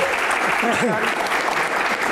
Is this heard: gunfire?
no